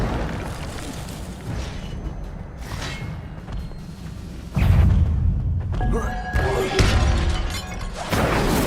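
Incendio fire spell bursts in Hogwarts Legacy gameplay: a loud booming blast with crackling, shattering debris, followed by further heavy thumps and rumbling impacts, close and dense.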